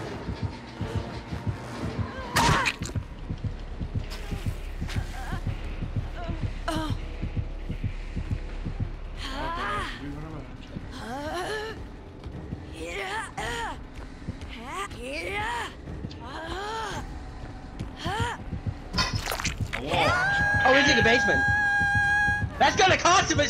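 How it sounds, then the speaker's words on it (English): Killer's heartbeat in the horror game Dead by Daylight: a steady, low, throbbing pulse runs throughout, with players talking and exclaiming over it and a rising tone near the end. "No, I hear the heartbeat!"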